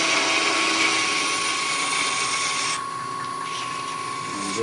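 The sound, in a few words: woodturning tool cutting inside a knob on lathe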